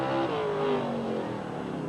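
A 1979 drill-run race car at Rochester, New York, accelerates with a loud, steady engine roar and rising tones as it slips and nearly spins, with no talk over it.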